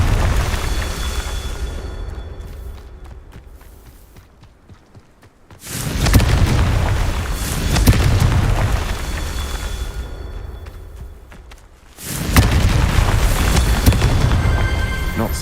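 Confringo fire spell blasts in the Hogwarts Legacy video game: two loud, rumbling explosive bursts a few seconds apart, each swelling into a sustained roar, with quieter crackling game ambience between them.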